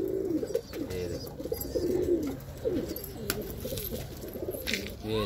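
Pigeons coo softly and repeatedly from a nest box inside a loft where an egg has been laid, their low burbling calls rolling continuously and close by, with faint background noise.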